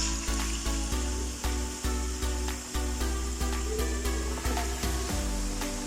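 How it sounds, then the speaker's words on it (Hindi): Boneless chicken pieces fry in a large cupful of hot oil for white chicken karahi, giving a steady close sizzle with a regular pulsing rise and fall throughout, no voices. "अब चिकन को हमने 5-6 मिनट के लिए ऑयल में भूनना है"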